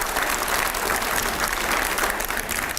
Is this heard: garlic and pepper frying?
no